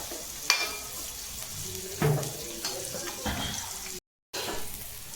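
Onions fry in a pan until brown for egg masala, with a soft continuous sizzle, a few clinks of stirring and a brief silent gap near the end.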